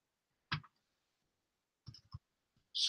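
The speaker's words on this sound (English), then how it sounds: "Let me type this up." Typing on a computer keyboard, a few quiet, sparse clicks in small clusters separated by silence, close and faint.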